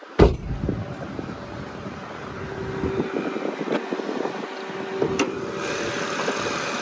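A 2006 Acura TL with a 3.2-liter VTEC V6 idles steadily under an open hood, a smooth mid-pitched engine hum with light wind noise and a few faint clicks, no talking.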